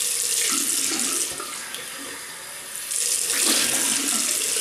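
A bathroom tap runs steadily into a sink as someone rinses during a wet shave, a close, continuous hiss of flowing water that dips briefly in the middle before surging again.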